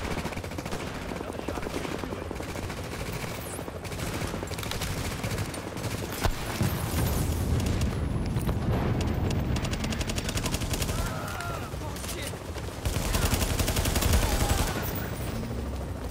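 Gunfire from The Division's final boss fight, with a sniper picking off the boss amid dense rattling bursts and a thick, noisy battle din throughout, with voices faintly mixed in.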